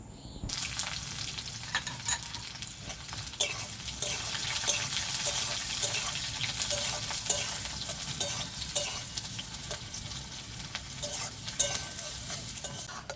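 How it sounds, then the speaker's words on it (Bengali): Chopped onions frying in mustard oil with cloves, cardamom and bay leaves, a constant close sizzle and hiss with frequent stirring scrapes throughout. "কড়াতে দিয়ে দেবো সরষের তেল, দিয়ে দেবো লং, এলাচ আর তেজপাতা, দিয়ে দেবো কেটে রাখা পেঁয়াজ"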